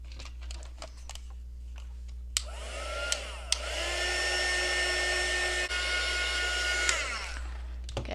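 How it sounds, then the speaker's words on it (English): A hair dryer blows steadily on wet paint to dry it between layers of colour, starting after a couple of seconds and running as a continuous near whoosh for about five seconds before cutting off. "I'm going to dry in between just because I don't want it to look too muddy"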